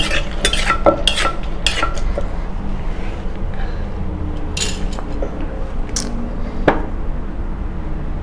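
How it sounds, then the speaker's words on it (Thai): Shredded papaya salad is tossed with dressing in a bowl, giving loud, continuous wet mixing and scraping with clinks of a utensil against the bowl, close and busy throughout. "ใส่น้ำต้มเย็กน้อยพี่น้อง เอาคลุกเข้าให้เข้ากัน"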